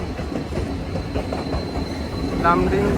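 A train rolls past on the Badarpur–Lumding railway line in Lumding Division, Assam, giving a steady low rumble of wheels on track, with a brief faint squeal near the end.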